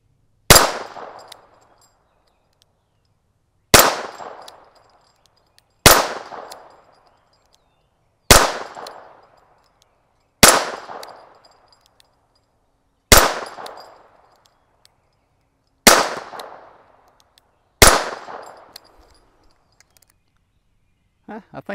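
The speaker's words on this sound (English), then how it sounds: "I'm gonna shoot some double action here. I've got that little 3-inch steel target hanging out there." A Smith & Wesson Model 317 revolver fired double action outdoors at a small steel target, eight loud, sharp shots spaced a few seconds apart, each followed by a ringing decay.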